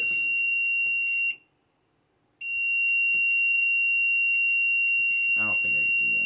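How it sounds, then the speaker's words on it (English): A Silent Knight IFP-2000ECS fire alarm panel sounds a loud, steady electronic alarm tone. It cuts out for about a second, resumes, and then a voice breaks in near the end. "That puts the panel into a voice alarm."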